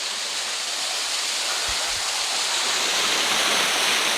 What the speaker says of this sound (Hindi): ये देखिए कितनी ऊंचाई से वाटरफॉल गिर रहा है।